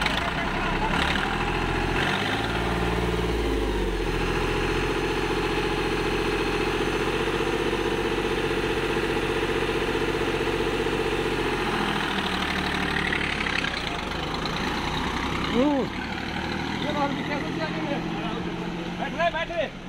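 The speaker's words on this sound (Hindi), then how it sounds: "ये बस चल रही देखा है पूरी, 20-2000 RPM पे है टॉप गियर में" Deutz-Fahr 50 tractor engine running steadily in top gear at around 2000 RPM on a road, a continuous loud drone with voices talking over it.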